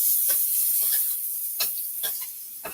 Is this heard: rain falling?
no